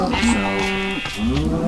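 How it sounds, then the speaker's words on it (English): Minecraft sheep bleating in a blocky game world, a steady wavering bleat sustained across most of the moment with a brief dip before a second bleat rises, loud and close. "Here are the sheep."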